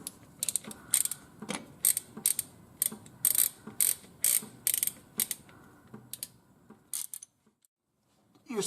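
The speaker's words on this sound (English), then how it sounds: "we're going to go ahead and remove the drain plug." A ratchet wrench clicks in quick bursts of repeated strokes while loosening the front axle drain plug on a tractor, close and fairly loud with no talk, pausing before a brief final few clicks.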